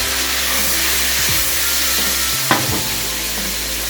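Vegetables stir-fried in a wok for chicken fried noodles give a loud, continuous sizzle throughout, broken by a brief clatter of stirring midway.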